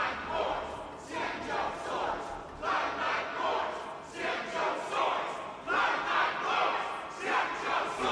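Crowd of spectators in the game Honkai Star Rail roaring and cheering in steady rolling surges, loud and continuous throughout, with no speech over it.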